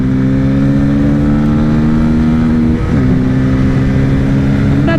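A 2024 Bajaj Pulsar N250 motorcycle accelerates hard in fifth gear during a drag race, its engine a loud, close, steady drone that climbs in pitch with a brief dip partway through.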